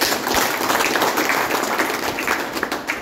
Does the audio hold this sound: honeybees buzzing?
no